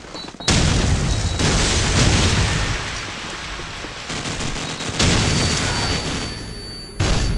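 Stun and flash grenade blasts in Call of Duty 4, loud booming bursts with gunfire-like crackle, a sudden onset followed by sustained noisy rumble and another sharp hit near the end.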